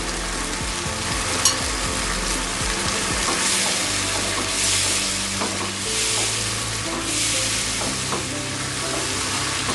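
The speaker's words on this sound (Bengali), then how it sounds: "আমি এভাবে একটু নেড়ে চেড়ে নিচ্ছি" Chicken sizzles loudly and continuously in a pan as shahi garam masala powder is stirred through, with a spatula scraping and turning the pieces under the crackle.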